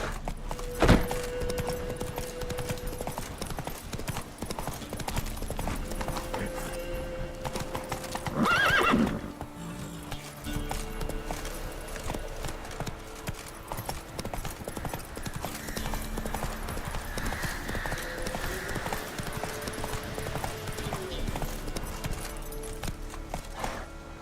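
Geralt's horse Roach galloping in The Witcher 3, a long run of rapid hoofbeats with a loud neigh early on and a snort midway, steady clip-clop beneath music and ambient game sound.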